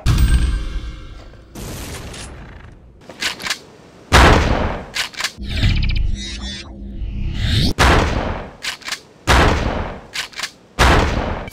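The Anger Breaker triple-barreled shotgun fires in a first-person shooter game as a string of sharp, loud blasts with pump and reload clatter in between, spaced irregularly across the stretch and never overlapping.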